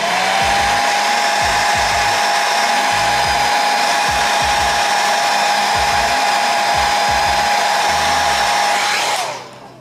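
Heat gun blowing hot air onto 2K clear coat on a scale model Porsche 911 GT3 RS, a loud, steady whining drone held close for several seconds before it cuts off, with faint knocks beneath.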